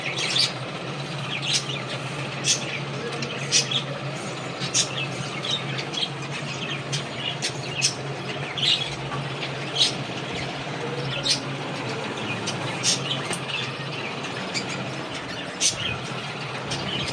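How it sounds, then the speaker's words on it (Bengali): Pet birds kept on a home balcony chirping and squawking after feeding, a steady series of short, sharp high calls repeating every second or so over a quiet background hum, with no talking. "আমি পাখিগুলো খাবার দিয়ে দিলাম"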